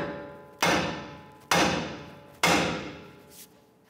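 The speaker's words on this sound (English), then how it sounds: "we're going to use our hammer and we're going to strike this part of our knuckle" A hammer strikes the steering knuckle of a 2011-2018 Ram 1500 three times, each a sharp metallic clang ringing and fading before the next, with a fainter fourth knock at the end.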